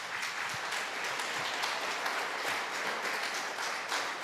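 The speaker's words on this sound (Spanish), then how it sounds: "Dile un aplauso al Señor." A church congregation applauds during a sermon on the gospel, broad sustained clapping from many people that holds at an even level throughout, with no talk over it.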